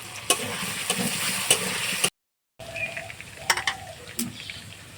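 Potatoes frying in oil in a pan for ghugni, a steady sizzle with scraping stirs and clinks, broken by a brief silent gap before the frying resumes.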